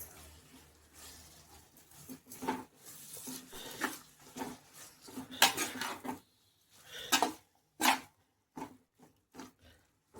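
A spoon scrapes and clatters against a pan while tomato gravy (thokku) with added salt is stirred, giving irregular knocks and scrapes with short pauses between, fairly close and moderately loud, with no talking.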